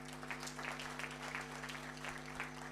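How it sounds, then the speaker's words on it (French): An audience at a Liyeplimal second-anniversary celebration claps in a faint, patchy ripple over a steady electrical hum, with no voices. "Applaudissez pour cette activité."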